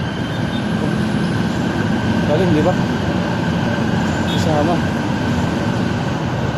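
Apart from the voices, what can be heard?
MRT train passing along EDSA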